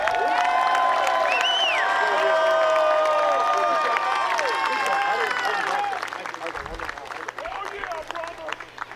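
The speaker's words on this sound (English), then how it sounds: "Let's have a round of applause for Competitive Edge." A crowd applauds and cheers the runners-up team at a men's Major World Series championship, with clapping, whoops and excited voices loud at first, then thinning out.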